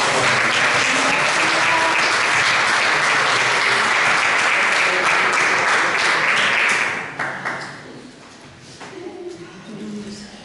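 Loud, sustained applause from a sizable crowd for about seven seconds, then fading into scattered claps and a few murmuring voices.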